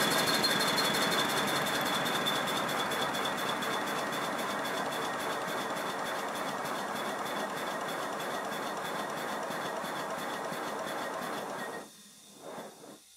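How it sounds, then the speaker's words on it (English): A model Simplex Prairie tank locomotive runs on compressed air, giving a steady rapid hissing chuff with a faint high whine, close and continuous for about twelve seconds before the air is shut off and it falls quiet. "I'll give it a slightly longer run on compressed air."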